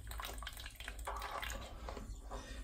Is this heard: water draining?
yes